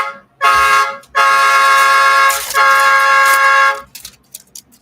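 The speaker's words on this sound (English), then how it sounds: "Train horn." Three long, loud blasts of a harmonic train horn, each lasting about a second, separated by short gaps and then fading into scattered background noise.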